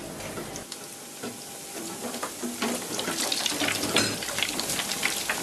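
Lamb (paricha) grilling on a small home gas grill, a steady crackling sizzle with dense popping that grows slightly louder, close up and without speech.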